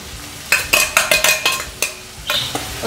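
Prawns and egg stir-fried in a hot pan for prawn fried rice, giving a run of sharp metallic spatula scrapes and clacks in irregular bursts over a steady sizzle, close and fairly loud.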